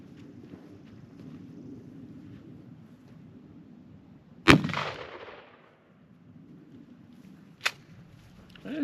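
A short-barreled 12 gauge shotgun firing 8-shot outdoors: one loud blast with a trailing rumble around the midpoint, then a second sharper shot a few seconds later, over light wind noise.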